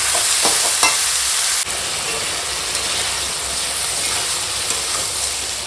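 Bottle gourd stir-fries in a pan with salt, giving a constant close sizzling hiss, with a couple of scraping stirs early on and a brief drop in level partway through.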